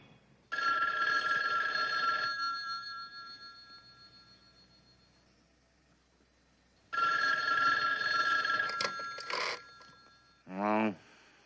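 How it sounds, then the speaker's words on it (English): An old-fashioned telephone bell rings in two long, loud bursts with a quiet gap between, followed by a short clatter and a brief voice as it is picked up. "Where's the phone?"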